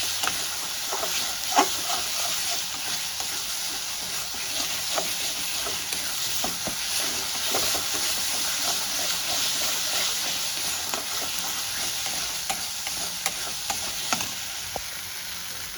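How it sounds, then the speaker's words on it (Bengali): Red chili powder, turmeric and salt being stirred and sautéed in hot oil for a vegetarian paneer curry, a steady close sizzle with hiss and frequent scraping stirs throughout, no talking. "এবার মশলাটা আমি কষাতে থাকি"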